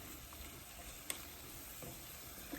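Shrimp sizzling in a pan for a seafood lasagna, a faint, steady frying hiss with a small tick or two, no talking.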